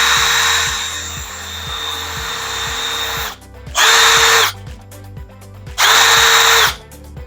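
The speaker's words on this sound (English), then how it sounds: "we're going to drill right down the center." A power drill whines loudly and steadily, then stops and restarts in two shorter bursts, close up and with no talking.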